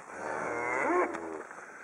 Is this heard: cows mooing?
yes